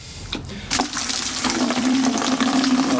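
Water gushing steadily into a ferment tank while garden beds are watered, a continuous close rushing pour that starts after a brief lull and holds steady to the end.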